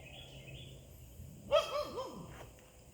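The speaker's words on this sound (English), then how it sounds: "Y'all can hear the dog out there." A dog barks a few times in the distance, a short burst of yaps over quiet background hum.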